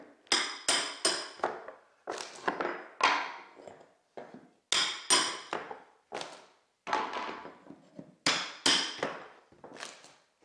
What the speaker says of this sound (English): we're going to go ahead and use our pry bar and hammer